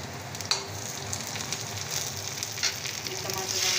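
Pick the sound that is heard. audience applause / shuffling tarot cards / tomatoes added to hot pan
tomatoes added to hot pan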